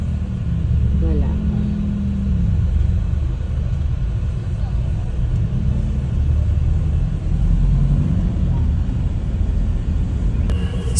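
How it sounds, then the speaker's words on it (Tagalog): Steady low rumble of heavy road traffic heard from inside a car on the way home from Dasol on the west coast, continuous throughout, with faint voices in the cabin. "So, sobrang traffic din ito."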